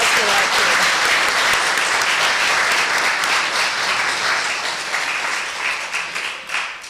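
A church congregation at a Sunday service applauds loudly and continuously, the dense clapping holding steady before thinning slightly near the end.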